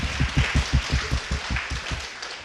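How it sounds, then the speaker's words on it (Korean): A congregation at a church mothers' prayer meeting claps for the mothers, a brisk rhythmic round of applause at close range that gradually thins out. "자, 우리 어머니에게 박수."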